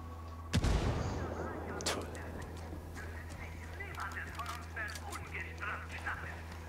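A grenade explodes in the video game Ghost Recon Wildlands with one loud boom that decays into rumbling debris, followed by quieter game noises and voices talking.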